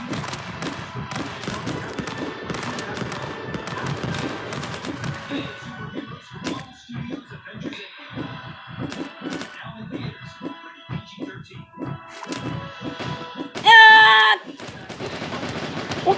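Dense gunfire and explosions crackle from the game Stick Fight, with rapid overlapping shots and bangs that thin out midway, ending in a brief electronic tone, all fairly loud and close.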